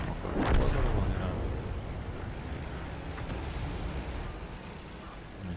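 A tank cannon fires once in a video game, a loud deep boom near the start that decays into a long rumbling, windy roar.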